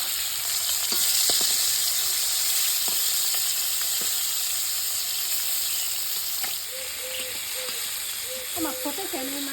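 Live fish, freshwater jiol fish, frying in hot oil in a heated kadai, a steady close sizzle throughout with scattered sharp pops and crackles as the skin bursts, growing busier near the end.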